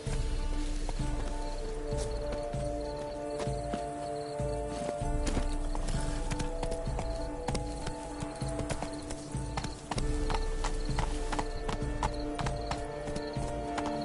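Horse hooves clip-clop in a PS4 video game, a quick, steady, even beat of hoof strikes lasting throughout, with a brief whinny and rustling behind it.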